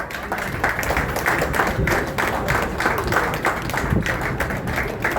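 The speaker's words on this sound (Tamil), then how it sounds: "நல்ல ஒரு கரகோஷம் கொடுங்கம்மா." An audience at an awards ceremony in Chennai claps for an honoree from Tiruchirappalli district, a continuous moderately loud round of applause with distinct rhythmic hand claps running throughout.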